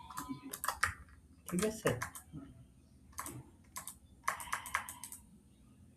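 Fast typing on a computer keyboard during coding, with bursts of crisp clustered key clicks and short pauses between them, close by, while someone speaks briefly over the clatter.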